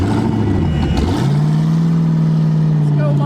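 A twin turbo Mazda RX7 running without air filters, with its engine revving hard under full throttle, climbs into a loud, sustained drone that stays steady, and voices speak briefly at the start.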